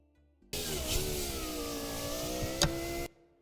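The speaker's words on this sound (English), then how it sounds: "And now power window." A car's electric window motor whirs steadily for a few seconds, with a brief click near the end before it stops abruptly.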